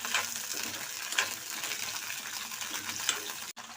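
Oil and green chillies frying in a kadai for a cucumber chutney, a steady close sizzle with a few scraping stir strokes from a spoon against the pan, no talking.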